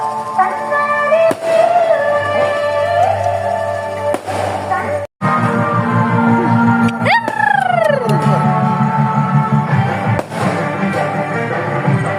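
Fireworks burst in the sky at an outdoor celebration: whistling rockets rise and fall in pitch among loud cracks and booms, with voices underneath throughout.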